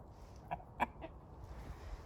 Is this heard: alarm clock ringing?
no